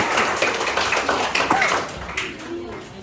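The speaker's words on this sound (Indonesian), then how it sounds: "Mari kita berikan tepuk tangan untuk Bapak Jokowi." An audience claps throughout at a school principal handover ceremony at SMP Seminari St. Johanes Langgur, with voices mixed in among the applause.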